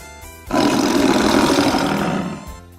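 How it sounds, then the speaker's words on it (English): A tiger gives one loud, close roar that swells suddenly and holds for about two seconds before fading, with no talk over it, in a children's environmental studies lesson. "Tiger."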